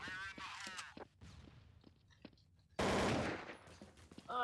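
Gunfire in the video game Counter-Strike: Source, with sharp rapid bursts of shots early on and a louder, denser volley later, separated by quieter scattered sounds.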